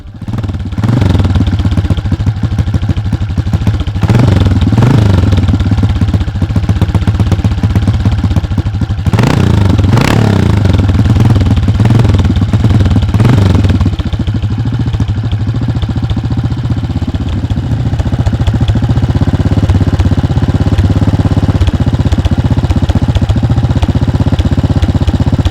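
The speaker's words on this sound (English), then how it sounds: "This is Barry McKee's CZ BSA. Now, it's a BSA motor fitted inside a CZ chassis, which is a very unusual combination." Barry McKee's classic CZ BSA dirt bike, a BSA engine in a CZ chassis, starts and runs, a loud close rough thumping idle with sharp revs early on, then settling into a steady running beat.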